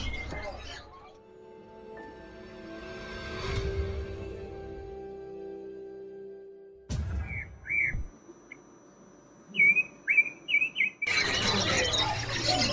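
A green leafbird sings sharp, chattering song in quick bursts of whistled notes, fairly close, following a stretch of low rumbling background noise.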